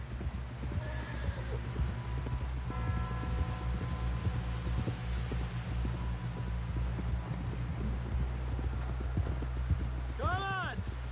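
A horse in the Red Dead Redemption 2 video game clip-clops in a steady rhythm of hoofbeats over low wind, ends with a loud neigh, and characters talk over it.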